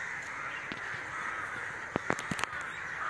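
A huge roost of crows caws from trees in a continuous dense chorus, with a few louder, sharper calls standing out nearby over the steady din.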